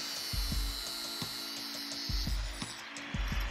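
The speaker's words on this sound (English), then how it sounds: "These two bolts, as you can see, are a little bit too long. So I'm gonna have to cut those down." A bolt for a custom disc brake adaptor on a Derbi Diablo moped being cut down with a power tool, a loud continuous grinding whine with rhythmic low thumps as the cut progresses.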